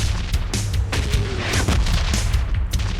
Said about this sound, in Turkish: Bombalar düşüyor yine.